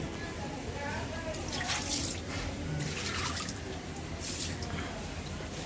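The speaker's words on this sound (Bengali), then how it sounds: "এবার বারান্দা জল দিয়ে পরিষ্কার হচ্ছে" Water poured across a balcony floor during house cleaning, a continuous broad splashing wash with sloshing bursts, steady and fairly close, no voices.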